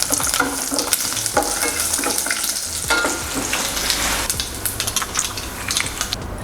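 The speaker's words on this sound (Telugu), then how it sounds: "ఆవాలు, ఒక 2 రెమ్మల ఎల్లిపాయలు వేసుకొని కలపెట్టుకుందాం." Cumin, mustard seeds and two sprigs of garlic sizzle loudly in hot oil as a tempering for kandi podi rasam. A spoon stirs and scrapes through the crackle at close range, continuously, and nobody speaks.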